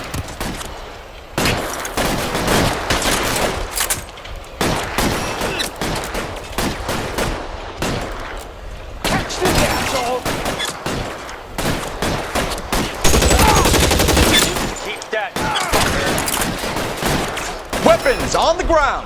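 Heavy police shootout gunfire in L.A. Noire, with many loud, close shots in irregular volleys and bursts throughout, and voices shouting at times between the shots.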